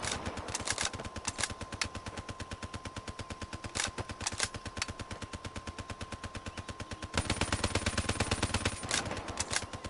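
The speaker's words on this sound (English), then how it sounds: "Cam, you could just spam shooting." Rapid automatic gunfire in the Call of Duty 3 video game, long bursts of closely spaced shots rattling steadily, with a few louder single reports and a denser volley near the end, no talk.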